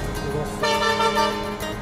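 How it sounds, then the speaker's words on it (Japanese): A truck horn blares in loud, steady honks through congested Manila street traffic, standing out over the surrounding road noise. "やっぱトラックのクラクションはでかいわ。"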